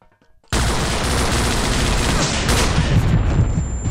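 Gunfire and explosions from the Vietnam War video game Vietcong, played co-op, burst in suddenly after a brief near-silence and continue as a loud, dense, sustained barrage with rapid shots and rumbling blasts.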